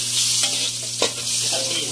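Ginisa sautéing in a frying pan makes a loud continuous sizzle, broken by a sharp clink and scrape of stirring near the middle, close up, with no voices.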